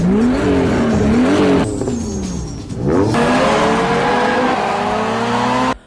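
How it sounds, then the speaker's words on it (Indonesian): Street racing cars launch at the start of a race on a closed-off road, engines revving hard and climbing through gears with a brief lull and tire squeal before roaring on, loud and close. "mereka langsung memulai balapannya"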